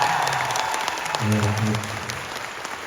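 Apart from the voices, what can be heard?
audience applause at comedy show in Shymkent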